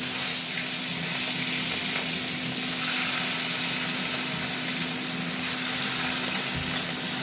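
Mustard oil keeps frying in a pan for a rohu fish curry, a steady, loud, continuous sizzle and hiss with no voices over it.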